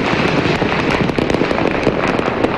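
New Year fireworks bursting overhead, a dense, continuous crackle of firecracker pops and explosions, loud and close with no pauses.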